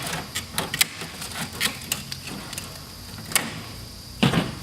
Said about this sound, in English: Then let's finish up by cutting a screen.